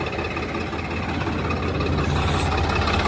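A 969 CRTI tractor reverses in a field, its diesel engine giving a steady, loud, low rumble with no break in it.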